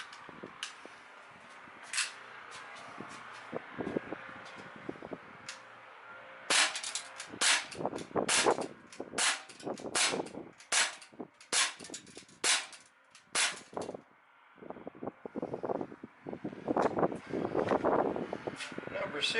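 A Daisy Powerline 5501 air pistol fires a run of sharp, snappy shots, sparse at first then in quicker clusters, close by, with metallic clicks of handling between and someone talking faintly at times.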